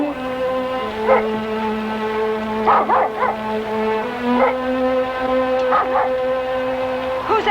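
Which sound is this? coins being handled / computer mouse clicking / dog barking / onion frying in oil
dog barking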